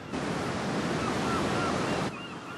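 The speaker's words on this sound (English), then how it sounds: "the sound of the waves coming in or the wind" Steady roar of ocean surf with wind buffeting the microphone, loud and continuous for about two seconds before easing slightly.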